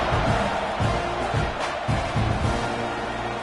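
Stadium crowd in a college football video game roars continuously at a steady, loud level during a kickoff, a dense wash of cheering with no clear breaks.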